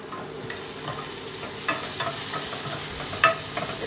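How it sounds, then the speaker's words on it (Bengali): Onions frying in a pan while boal fish is being prepared, a continuous close sizzle with light scrapes and taps of stirring throughout; no talk. "বন্ধুরা পেঁয়াজগুলো ভাজা প্রায় হয়ে এসেছে"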